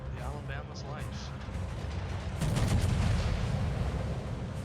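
Heavy booming salvo from the USS Missouri battleship's main guns in World of Warships, a deep rumbling blast that swells midway and lingers, with someone talking over it.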